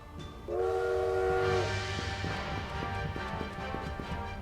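A train in the Bloodstained: Ritual of the Night video game sounds a loud, sustained horn blast for about a second, then rumbles on with steady, rhythmic clacking of wheels on rails.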